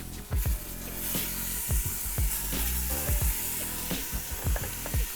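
Beef short ribs searing in a hot pan, a loud steady sizzle close up with repeated thumps and clatters as the meat is moved and turned, no voices.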